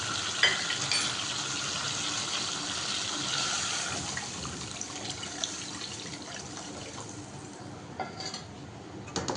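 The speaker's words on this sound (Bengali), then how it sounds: "এবার আমি এতে পরিমাণ মতন জল দিয়ে দেবো।" Water poured into a pan of well-fried cooking spice mixture, a steady close splashing and sizzling with a few clinks of utensils, no talk.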